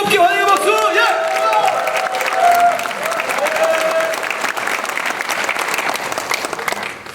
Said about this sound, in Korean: 불러오실 때 뜨겁게 환영의 박수.